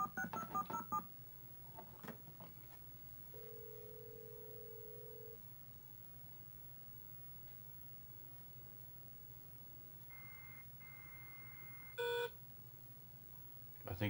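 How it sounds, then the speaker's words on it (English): Atari XM301 modem on an Atari 8-bit computer tone-dialing a BBS: a low steady dial tone runs throughout, with a long held beep partway in and a short burst of touch-tone digits near the end. "Change to tone dialing."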